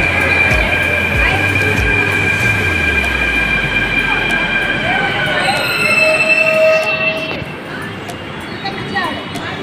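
A Mumbai metro train on the Versova to Ghatkopar line rolls into the platform, its low rumble slowing with rhythmic wheel thumps, high electric whines and squeals, then settling as it stops nearby.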